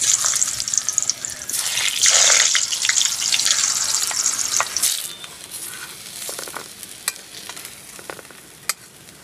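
Pieces of elephant foot yam sizzle in hot oil, a loud, close crackling hiss with stirring scrapes, easing off midway as the pan quiets, followed by a few faint clinks.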